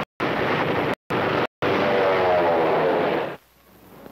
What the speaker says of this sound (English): Those guys flew so low, they should have had bayonets on their propellers